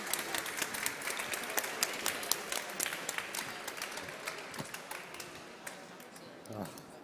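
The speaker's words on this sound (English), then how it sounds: "If you'd like to join me in a round of applause." An audience at a European Resuscitation Council training session gives a round of applause, rather faint, fairly brief clapping that thins out toward the end, with a voice speaking briefly near the close.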